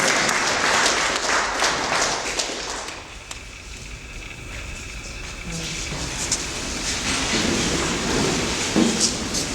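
Congregation applauding during a funeral service, dense sustained clapping from a large crowd filling the space, swelling and easing slightly in waves with a few sharper claps standing out.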